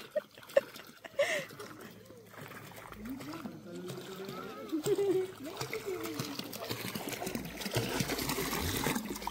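Cold mountain water in Sagada runs and trickles nearby with occasional splashes, a continuous wash beneath people talking.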